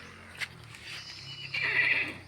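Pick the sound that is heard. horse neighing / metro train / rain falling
horse neighing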